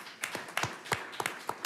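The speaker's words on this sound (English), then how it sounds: "You can clap for that." Sharp, separate claps from a small audience at a school board of education meeting, a handful of near slaps in an uneven rhythm rather than sustained applause, with no talking over them.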